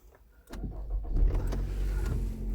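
A Nissan Rogue with stored fault codes cranks and its engine catches after a brief quiet moment, settling into a steady low idle rumble up close, with no one speaking.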